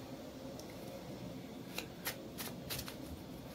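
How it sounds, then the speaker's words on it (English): Tarot cards being shuffled by hand, a soft steady riffle with several sharper snaps of cards near the end, close and quiet, with no voices. "still I want to continue to shuffle"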